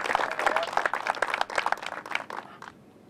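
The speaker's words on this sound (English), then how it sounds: "So I'd like to give them a big round of applause." Crowd applause at a groundbreaking ceremony for an animal shelter and adoption center, steady outdoor clapping from many hands that fades out toward the end.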